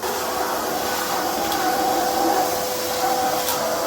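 A steady, loud whirring drone with a faint whine on top, a vacuum cleaner running nonstop close by on a home renovation site, with no talk.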